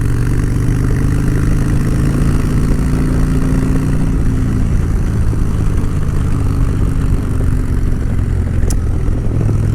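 A Harley-Davidson Fat Bob 103 motorcycle engine runs steadily at a low, throbbing idle, a constant loud rumble close by with no talking over it.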